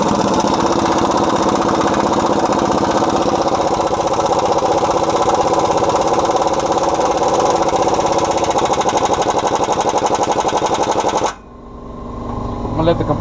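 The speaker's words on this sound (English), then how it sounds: "I'm gonna let the compressor fill up with more air" An air compressor in a garage where coil springs are being fitted to a 1979 Ford F100 runs loud and close, chugging in a steady rapid rhythm for about eleven seconds before cutting off abruptly.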